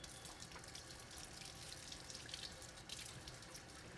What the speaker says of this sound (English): fill a big bowl with cold water to shock the noodles